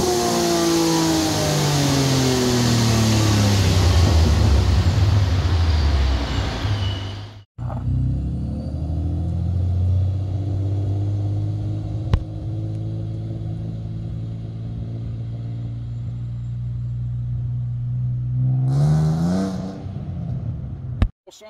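A Procharged 3.7L V6 Mustang with a P1X supercharger roars up through the revs on a dyno, climbing loudly, cutting off abruptly, then rising again in a long sustained pull before a final quick rev and drop-off.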